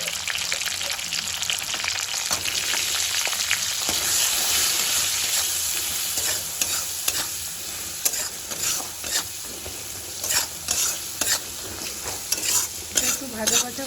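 Spices with salt and turmeric fry in a pan for a pea luchi recipe. A continuous close sizzle runs throughout, with scraping and stirring clicks that grow more frequent toward the end.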